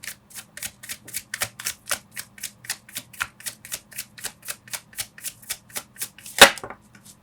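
Tarot cards are shuffled in a steady run of crisp riffling flicks, about three per second, close and clear, ending with one sharper louder snap as a card is drawn.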